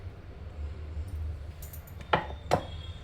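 A kitchen knife halves brinjal (eggplant) slices with two crisp, close cuts about half a second apart, each a sharp knock on a cutting board over a quiet background hum.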